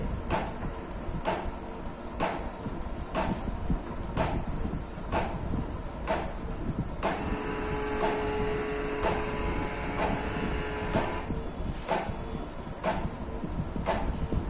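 A Canon PIXMA G3010 inkjet printer printing: a regular series of clunking mechanical thumps about once a second as the print head shuttles, with a whirring feed tone midway, close and steady.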